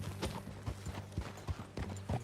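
Horse hooves clip-clop at a steady trot while riding in Red Dead Redemption 2, a close and even rhythm of hoofbeats over a low rumble, with no talking.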